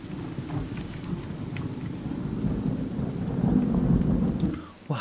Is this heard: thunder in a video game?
yes